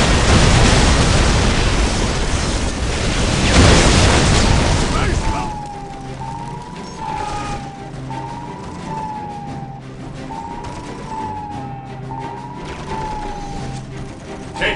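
Heavy fire and explosions rumble loudly in the video game Warhammer 40k Dawn of War, a dense barrage of booms for several seconds before giving way to a quieter scene with a repeating wavering siren-like tone.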